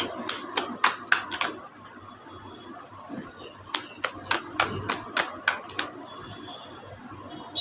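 Tarot cards are pulled from the bottom of a deck in crisp, snapping clicks, one quick burst of about five, a pause, then a longer run of about eight, close and fairly quiet.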